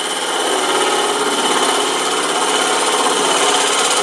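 Woodturning tool cutting into a burl on a spinning lathe for an edged box, producing a loud, continuous rattling chatter with a steady hum, close up and without speech.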